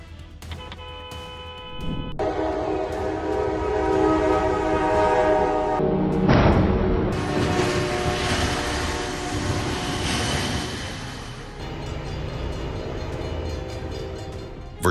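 A train sounds its horn in long sustained blasts at a rail crossing in Versailles, loud and close over the rumble of rail cars, with a brief sharp burst partway through.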